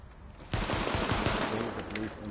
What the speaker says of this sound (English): I can shoot your head off right now